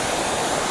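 Dess Waterfall in Aberdeenshire, Scotland, roars as river water tumbles over rock, a close, loud and unbroken rushing wash with no voices.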